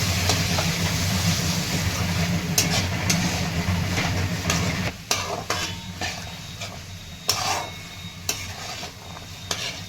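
A pea curry is stirred in a sizzling pan, with a steady frying hiss at first, then scattered scraping clinks of a utensil against the pan.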